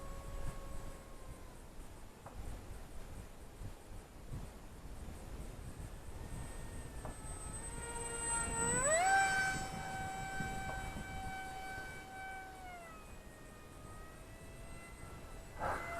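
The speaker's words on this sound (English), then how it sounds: "I love this park jet." A Glue & Fly F-22 Raptor micro RC park jet flying outdoors, its thin electric whine faint at first, then swelling and rising sharply as it passes close, holding high, then sliding lower as it moves away; no talk.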